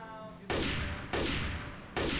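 Three loud bursts of rapid gunfire in Left 4 Dead 2, each a sustained crackling volley, separated by brief pauses, with a faint tonal background beforehand.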